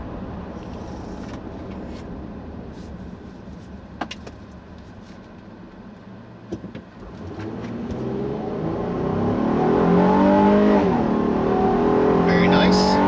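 A Honda Ridgeline's 3.5-liter V6 engine hums at cruise, then rises into a loud, climbing rev as it accelerates hard, heard from inside the cabin.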